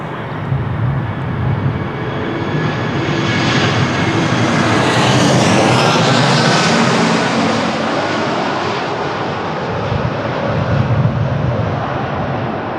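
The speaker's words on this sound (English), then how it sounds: "next to land it's EasyJet with Airbus A320-200" EasyJet Airbus A320-200 landing at Lisbon Airport on a windy day, a loud broadband jet roar that swells as the aircraft passes close by and then slowly fades, with wind noise throughout.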